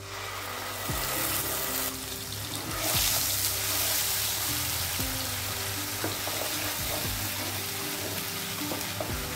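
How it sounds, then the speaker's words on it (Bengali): Whole garam masala and onion paste hit hot oil in a pan for Bengali doi katla, giving a loud, continuous close sizzle with occasional stirring and scraping throughout. "এবার এই তেলে আমি ফোড়ন দিয়ে দেব গোটা গরম মশলা, আর দিয়ে দেব পেঁয়াজ বাটাটা"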